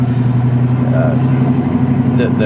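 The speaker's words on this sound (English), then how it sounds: "Has a custom Flowmaster exhaust" Steady low drone of a 1965 Ford Mustang 289 V8 engine with a deep rumbling Flowmaster exhaust note throughout, while a voice talks over it.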